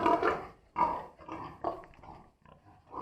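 A farm pig, a sow recently separated from the others, grunts in several short, fairly close bursts spaced across the moment, with quiet gaps between them.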